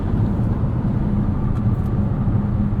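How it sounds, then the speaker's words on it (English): Steady low road rumble inside the cabin of a 2023 Lexus RZ 450e Premium AWD electric SUV cruising on the highway, a muted, even hum with no engine note. "As you can hear here, pretty quiet on the highway."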